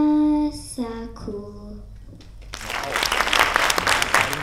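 At a children's Christmas recital, a child's sung notes trail off into quiet, and then the audience breaks into warm, steady applause that grows fuller and keeps going.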